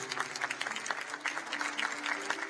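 Audience in an auditorium at a book fair in Lima applauding, a fairly faint, steady patter of many hands clapping from some distance.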